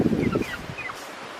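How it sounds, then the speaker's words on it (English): Big chickens and young chicks feeding together in a chicken area give a brief burst of soft, close clucking and high chirps that fades within a second. "You can see the chicks eating with all the big chickens now"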